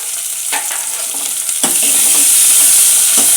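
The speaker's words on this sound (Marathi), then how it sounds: "आता तितून टोमाट घालता." Tomatoes tipped into a hot pan for a simple dal, a soft thump and a rising, steady sizzle of frying, with stirring scrapes heard over the continuous hiss.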